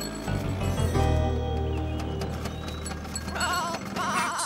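A goat bleats loudly in a children's story, a wavering, voice-like cry lasting several seconds, followed by softer rustling and clip-clop sounds.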